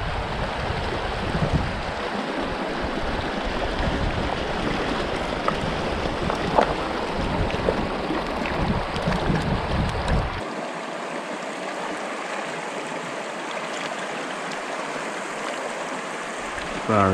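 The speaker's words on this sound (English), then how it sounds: "Wind doesn't help me." Wind gusting outdoors beside a flowing Yellowstone stream during tenkara fly fishing, a steady broadband rush of wind and moving water, loud and continuous throughout, with a slight drop in low rumble partway through.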